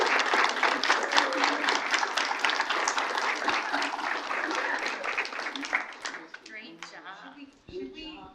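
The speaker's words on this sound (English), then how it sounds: "can we give them a round of applause?" Audience at a school board meeting applauding kindergarten children, a full, dense burst of clapping that gradually thins and fades near the end as voices start to come through.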